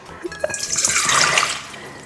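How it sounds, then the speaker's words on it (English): Lukewarm water poured into a mixing bowl for pita dough in a home kitchen, a short close splashing and trickling pour alone, rising and fading over about two seconds. "The first thing we need is 3/4 cups of lukewarm water."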